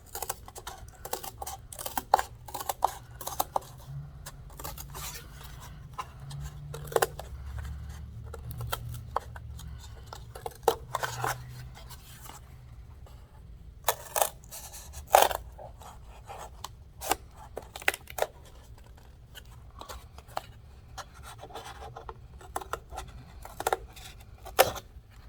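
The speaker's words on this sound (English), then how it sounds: "So I'm going to quickly cut that out." Scissors snipping out a paper template for a robot hand craft, close and distinct, with irregular bursts of sharp crisp cuts and pauses and light paper rustling in between.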